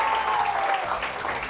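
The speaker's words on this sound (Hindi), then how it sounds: "तालियां बजाइए सबसे पहले तो आप लोग" Studio audience on a Pakistani morning TV show breaks into steady, dense applause that fills the whole short stretch at even loudness, with a faint voice underneath.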